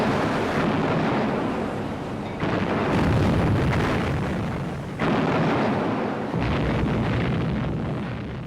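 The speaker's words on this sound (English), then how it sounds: "There was a huge explosion." A huge explosion as a shell hits the magazine of the battleship HMS Hood in 1941, rendered as a series of deep, sustained roaring blasts in several loud waves, with no speech.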